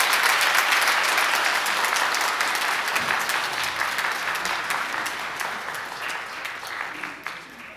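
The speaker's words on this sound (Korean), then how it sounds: "박수로." A church congregation at Sunday Mass applauds steadily, a broad wash of clapping that gradually fades over several seconds, with faint voices underneath.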